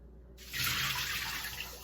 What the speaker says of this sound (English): So I'm going to strain my grains,